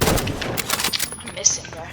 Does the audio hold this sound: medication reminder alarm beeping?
no